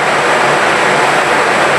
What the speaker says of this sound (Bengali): তো বাইরে দেখুন বৃষ্টির শব্দ হচ্ছে ভিতরে